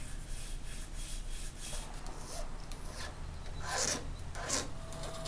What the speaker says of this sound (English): Making a new bone saddle here.